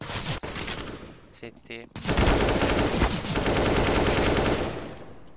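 Rapid automatic gunfire rattles during a firefight in the video game CS:GO, first a short burst, then a long, loud, sustained exchange of shots, with a player speaking briefly over it.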